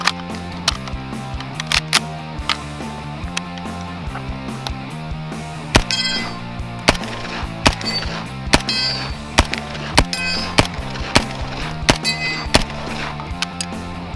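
A POF MP5A3 fires a series of sharp, loud single shots with an irregular rhythm, cracking out over a constant background drone; no one speaks.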